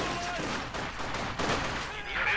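Gunfire in the real-time strategy game Company of Heroes 2 during a 1v1 match: a dense volley of rifle and machine-gun bullets crackles in rapid overlapping bursts, moderately quiet and steady throughout.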